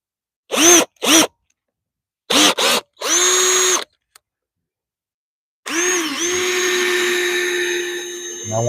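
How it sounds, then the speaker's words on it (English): A power drill running with a slightly bigger bit into shed lattice siding outdoors: several short whirring bursts, then one longer sustained run of drilling, loud and close. "I'm going to get a slightly bigger drill bit."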